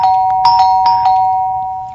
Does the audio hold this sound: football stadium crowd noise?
no